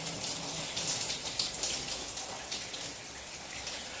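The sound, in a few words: rinsing shampoo from hair with running water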